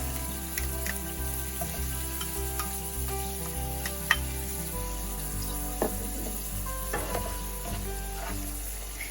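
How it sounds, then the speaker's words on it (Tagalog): Chopped onions sizzle and fry in a pan on medium heat, a steady close crackle with occasional stirring scrapes and soft clinks. "And we will saute chopped onions."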